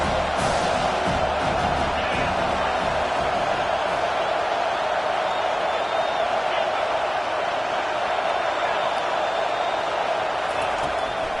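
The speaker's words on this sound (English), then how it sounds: "Decibels rising as the crowd gets behind this defense on 3rd down." A loud stadium crowd roars steadily throughout, swelling in noise behind the defense on a third-down play at an American football game.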